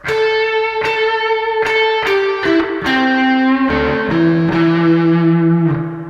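A distorted electric guitar plays a blues lick of picked notes that step downward, each ringing out over a sustained, gritty tone, loud and alone.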